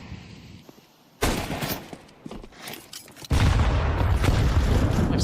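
A grenade detonating in a Counter-Strike 2 match: quiet ambience, then a sudden loud blast with rumbling tail, followed by a second heavy burst of sustained explosive noise near the end.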